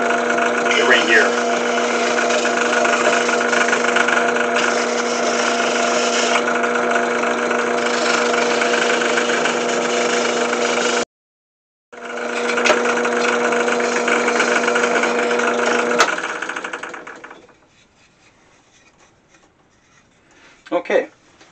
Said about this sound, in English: So I've just installed one of these sanding drums here on my press drill.